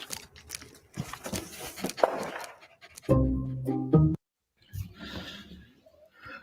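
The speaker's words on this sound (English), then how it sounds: "Oh, doggy." A dog pants close by in quick, breathy bursts, broken midway by a short harmonic whine-like sound and a brief pause before the rapid breathing picks up again.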